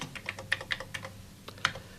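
Typing on a computer keyboard: a quick, irregular run of sharp, close key clicks and taps, with a few louder keystrokes, and no voices.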